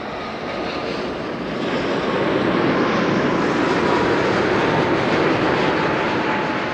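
A jet airliner roars close by while landing on a runway at Amsterdam Schiphol Airport, a loud, continuous broadband engine rumble that swells slightly midway and holds steady, with no voices.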